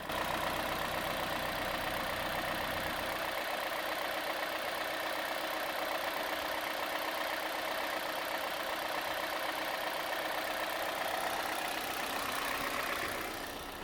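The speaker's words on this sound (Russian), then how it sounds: "Мы просто вот эту половину, которую залили в первый раз, выработаем всю до конца на холостых оборотах" A car engine idling steadily during injector flushing, a constant mechanical hum with a faint ticking texture, held at a moderate level throughout with no voices.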